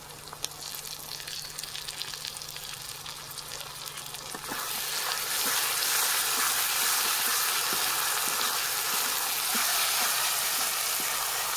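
A ground paste of onion, tomato, green chili and nuts hits a hot pan for a paneer dish. A moderate sizzle jumps to a loud, dense, continuous frying hiss with faint stirring scrapes.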